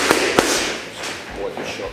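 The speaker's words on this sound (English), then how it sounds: "I'm going to throw a 1-2 hook now, just build that combination, nice and simple." Boxing punches from a 1-2 combination finished with a left hook, several close sharp slaps and thuds on a pad in quick succession, with someone speaking around the strikes.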